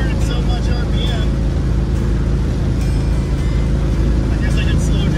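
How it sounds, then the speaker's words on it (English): Steady low engine rumble from a car cruising with its windows down, turning fairly high RPM, with broadband road and wind noise filling the interior continuously. "There's a nice rumble."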